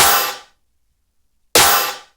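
Two layered electronic snare samples, a snare blended with a Panda Loops snare, strike one after the other about a second and a half apart, each a loud, bright, crisp crack that fades within half a second.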